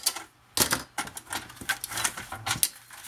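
Paper for a scrapbook page being cut, with a run of close, crisp clicking and snipping bursts in an uneven rhythm over a few seconds, with no talk.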